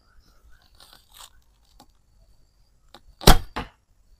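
An arrow released from a bow using the khatra technique gives a sharp snapping thwack followed by a second short impact, close and alone after a few faint ticks and near-silence.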